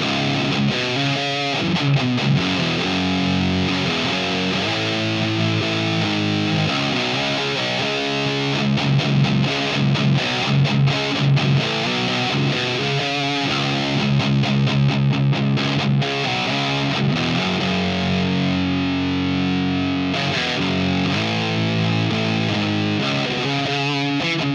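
Electric guitar driven through a RAT distortion pedal into an Orange Super Crush 100 solid-state amp, playing a dense, loud riff of chugging chords and notes with a noisy, saturated edge, continuous with no talking.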